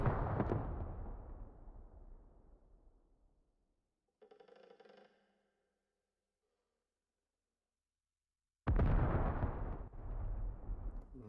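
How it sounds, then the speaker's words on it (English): Mortar rounds explode in a military video game. A heavy, close boom opens and rumbles away, a faint muffled burst follows in the quiet gap, and then a second loud blast hits and slowly fades. "A lot of explosions."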